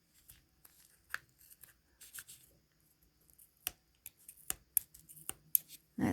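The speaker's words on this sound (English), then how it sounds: "see if my scissors can go in there" A few sharp, scattered snips and clicks from scissors cutting into stiff yarn of a pom pom, quiet and close, with pauses between cuts.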